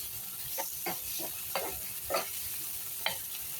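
Seasoned mixture with berbere and salt frying in a pan for an egg breakfast, a steady low sizzle broken by several soft scraping stirs, close and fairly quiet with no talk.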